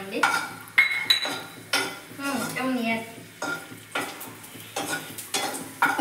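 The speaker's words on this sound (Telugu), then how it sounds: "ఇప్పుడు డ్రై ఫ్రూట్స్ వేసుకొని కొంచెం ఫ్రై చేసుకున్నామండి" Dry fruits fry in hot ghee while a spoon stirs them around the pan, making repeated scraping and clinking strokes over a soft sizzle, close and loud, with no talking.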